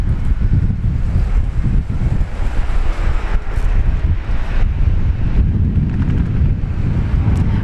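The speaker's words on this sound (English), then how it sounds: "Wind is definitely picking up." Strong wind buffets a microphone outdoors at Brisbane Airport, a loud, steady low rumble with gusty swells throughout and no voices.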